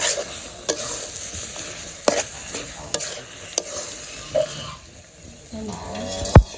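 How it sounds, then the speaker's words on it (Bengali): Taro leaves and fish curry being stirred and fried in a village kitchen, with a steady sizzle under occasional scraping clinks of a utensil against the pan, close and fairly loud. "আজকে রান্না করছি কচুর শাক আর এই যে মাছের তরকারি"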